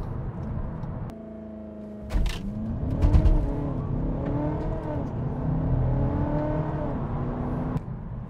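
A remapped VW Passat 2.0 CUAA bi-turbo accelerates hard, its engine note climbing in repeated rising sweeps through the gears, loud and close with no talk.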